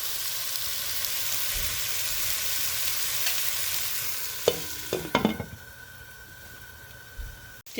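Mutton curry cooks in a pan over a low flame with a steady, close sizzle, and a few stirring scrapes and clinks break through midway and near the end.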